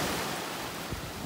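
Surf washes onto a beach in North Naples, Florida, a dense continuous roar of breaking waves with wind buffeting the microphone, nearby and loud throughout.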